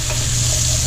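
Onion fries for shrimp and sausage paella in a pan, giving a loud, steady close sizzle for under a second.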